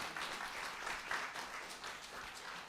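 Church congregation at a Korean seminar applauding in a steady, moderately quiet patter of many hands, with faint swells and no clear talk.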